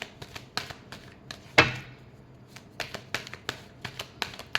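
A deck of tarot cards is shuffled by hand, giving a series of sharp, close card taps and flicks, one louder riffle in the middle, with no talking.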